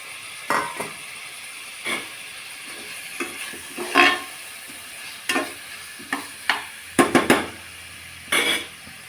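Tomatoes sautéing in a pan for mushroom biryani, with a soft sizzle under repeated scrapes and stirs of a spoon against the pan, in irregular short bursts.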